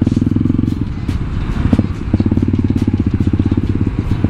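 Kawasaki KLX supermoto motorcycle engine running close up, a loud rapid rhythmic single-cylinder thump with brief revs near the middle.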